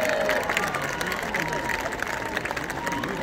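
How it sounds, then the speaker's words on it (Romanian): Audience applause and some cheering at an outdoor city festival in Oradea, a dense wash of many hands clapping at steady volume, fairly close, with crowd noise mixed in. "Aplauze pentru Sava Negran Brudașcu"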